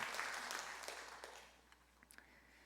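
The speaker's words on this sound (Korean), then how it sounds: "환영의 박수로 우리 축복하겠습니다" Congregation at a Sunday worship service applauding to welcome newcomers; a soft, fairly distant patter of clapping that gradually thins and fades over a few seconds, with scattered claps near the end.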